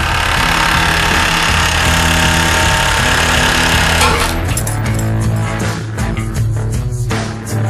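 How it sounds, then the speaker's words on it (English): Ridgid 238P powered soil pipe cutter working through pipe: a loud, continuous grinding motor drone with heavy low rumble throughout, turning rougher and more broken toward the end. "The Ridgid 238P powered soil pipe cutter offers easy access and quick, efficient cutting to help you get the job done fast."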